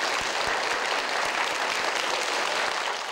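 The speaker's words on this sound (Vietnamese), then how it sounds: "Thưa quý vị, một tràng vỗ tay để chúng ta bắt đầu." A game show studio audience claps in sustained, dense applause, loud and even throughout with no voices over it.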